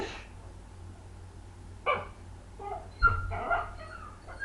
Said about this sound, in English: Dog's barking outside, and this is how he reacts every single time.